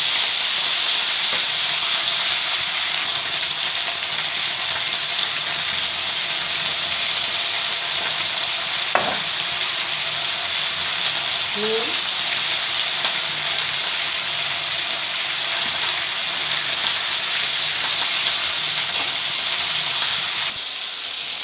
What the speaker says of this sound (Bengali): শিমটা দিয়ে আর এই ফুলকপি, বেগুন, আলু, বিনস এগুলো ভাজছি।